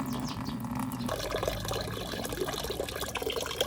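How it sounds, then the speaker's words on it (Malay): Water solution of urea fertilizer poured onto watermelon seedlings at a home garden in Kedah, a steady close splashing and trickling flow lasting throughout, with faint birdsong in the background. "Lepas tu kita pergi siram."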